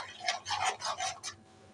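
Fresh milk cream being stirred into a kunafa mixture in a pan, giving several close, soft rubbing and scraping strokes in a steady rhythm, with no talking.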